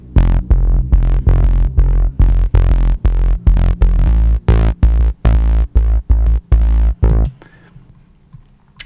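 Synth bass in Logic run through bass amp, compressor and limiter plugins, driving a loud, punchy string of rhythmic notes that stops abruptly near the end, leaving a faint noisy tail; no voices.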